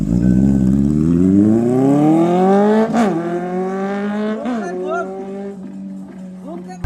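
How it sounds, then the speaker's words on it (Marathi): A car engine revs up in a rising whine, then drops and blips several times before settling to a steady idle, loud and close. "आता या गाडीचा आवाज आहे का?"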